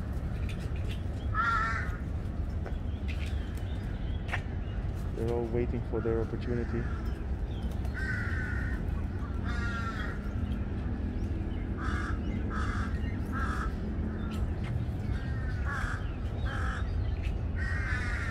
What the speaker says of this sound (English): All the crows here are trying to get a piece of